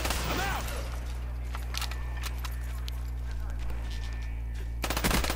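Video game gunfire from a Black Ops submachine gun or assault rifle: a rapid automatic burst near the start, scattered shots through the middle and another dense burst at the end, over a steady game hum.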